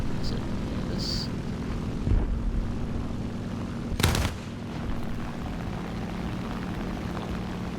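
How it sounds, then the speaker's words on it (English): Anti-aircraft gunfire in War Thunder: a couple of sharp distant bursts over a steady aircraft engine drone, the loudest blast near the middle standing out briefly. "I can hear an AA trying to shoot at me"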